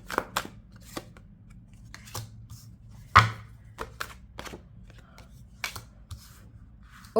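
Soft papery riffling and tapping of cards being shuffled, in scattered bursts with a sharper snap now and then, close by and fairly quiet.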